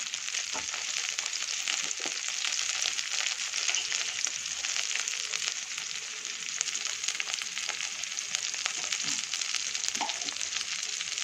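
The potato filling for aloo bonda fries in a pan with a steady, close, continuous sizzle and crackle, with occasional faint stirring scrapes and no talking.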